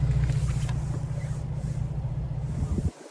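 A 2024 Lincoln Corsair Reserve II with dual exhaust idles nearby, a low, steady engine rumble with a throaty exhaust tone that cuts off abruptly near the end.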